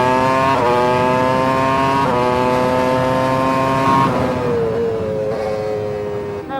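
A 1999 Formula One car on the Silverstone circuit, its engine a loud, close, high-pitched continuous whine that shifts pitch abruptly through several gear changes, dropping and easing off toward the end.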